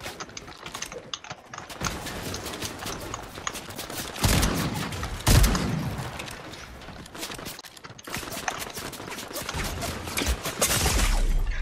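Rapid video game gunfire crackles in dense bursts, mixed with fast keyboard clatter and short pauses, loud and close throughout.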